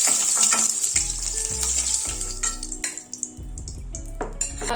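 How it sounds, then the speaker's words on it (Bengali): Eggs frying in hot oil with salt and turmeric, a loud close sizzle that hisses continuously, with bursts of spattering and a few clunks of a utensil against the pan. "তেলের মধ্যে ডিমের সঙ্গে নুন আর হলুদ একসঙ্গে মিক্স করে ডিমগুলোকে ফ্রাই করব।"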